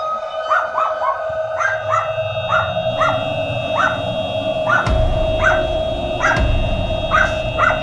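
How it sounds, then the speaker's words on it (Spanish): Dogs bark in the early hours before dawn, a steady run of about a dozen sharp, evenly spaced barks mixed with yips. They sound fairly close, with no talking. "De madrugada, los perros ladraron."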